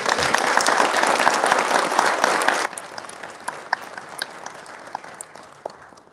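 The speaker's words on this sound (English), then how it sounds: "Let's get a round of applause." Full applause from the audience at a city severe weather month press conference, dense clapping that cuts off abruptly, followed by a few scattered lingering claps.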